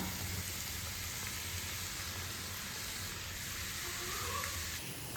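Chicken noodles stir-fried in a pan with tomato ketchup and soy sauce, a steady loud sizzle with faint stirring scrapes, continuous and close, with no voices.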